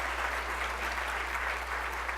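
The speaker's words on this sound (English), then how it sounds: "Give the teachers a round of applause." An audience at an MLK breakfast keynote applauds the teachers, a dense, steady wash of many hands clapping at once, even in loudness throughout, with a low electrical hum underneath.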